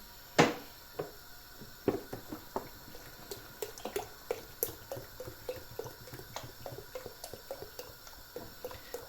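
Milk poured into a pot of boiling keşkek soup, a Turkish wheat and meat stew with black pepper, giving irregular wet splashes and drips that repeat close up over a low bubbling simmer, with no talking.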